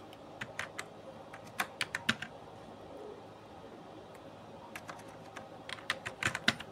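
Computer keyboard keys typed while entering a date formula in an Excel spreadsheet, heard as quick clusters of light clicks and taps separated by pauses, close and fairly quiet.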